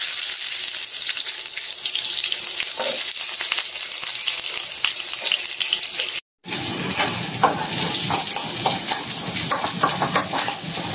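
Onions sauté in a hot pan, giving a close, continuous sizzle with stirring scrapes, broken by a brief moment of silence before the frying resumes louder.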